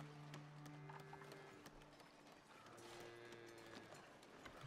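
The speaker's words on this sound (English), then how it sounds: "we got a horse there moving very fast" A horse galloping fast in the city-building game Foundation, its hoofbeats faint and rapid under a low, steady ambient hum with soft tonal notes.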